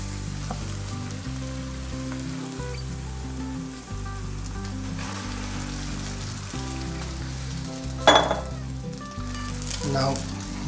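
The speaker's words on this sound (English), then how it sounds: "And saute the ingredients for 3 minutes more in the low heat." Spaghetti sauce ingredients sauté in a pan on low heat, giving a steady, soft sizzle throughout under background music, with a brief clatter near the end.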